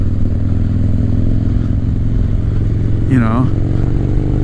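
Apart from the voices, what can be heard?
1985 Harley-Davidson FXR motorcycle engine running, not tuned right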